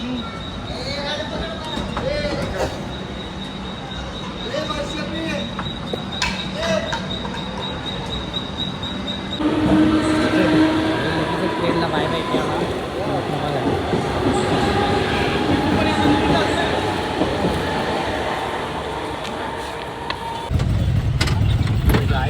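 A train rumbles along steadily, a continuous rolling roar with rhythmic clatter that grows louder midway, with people talking over it.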